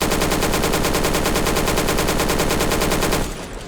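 An AK-74M rifle in the shooter game Black Squad firing on full auto: a loud, dense, unbroken burst of rapid shots lasting about three seconds, then cut off as the sound drops away.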